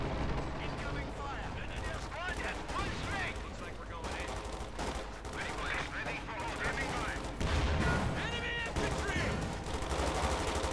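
Continuous battlefield gunfire from tanks and armored cars in the Company of Heroes 2 strategy game, including a Puma armored car and a Sherman tank, dense rattling shots and explosions under steady commentary.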